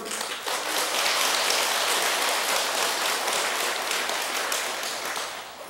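Audience applause at a Buddhist talk, a dense patter of many hands clapping at steady loudness for several seconds and fading slightly toward the end.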